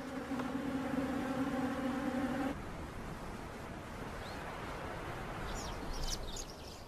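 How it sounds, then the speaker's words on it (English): Bees buzz close by for a couple of seconds with a droning hum, then fade into quiet outdoor ambience with faint bird chirps. "sometimes they attract thirsty bees drawn to this unlikely source of moisture."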